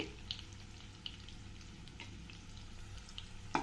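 Sliced onion and ginger garlic paste frying in hot oil, giving a faint, steady low sizzle with a few soft clicks of stirring, and no voices.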